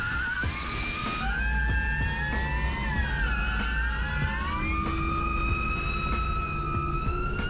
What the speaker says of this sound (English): that's what gears meshing sound like at high speed